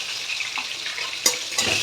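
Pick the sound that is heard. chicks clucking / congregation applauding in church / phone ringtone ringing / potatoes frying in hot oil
potatoes frying in hot oil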